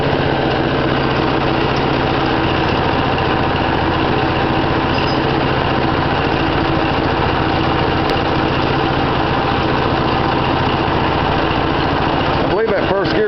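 The small engine of a home-built mini dozer runs steadily in first gear, with a loud, close, continuous buzzing drone that barely changes and a faint voice now and then.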